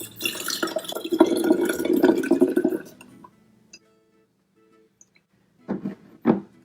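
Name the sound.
hydrogen peroxide being poured into a bottle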